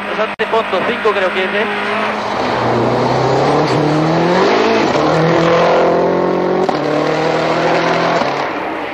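A rally car engine running on only three cylinders at the 2004 Swedish Rally drones and revs loudly and close, its pitch rising and falling steadily, with a voice talking faintly under the engine.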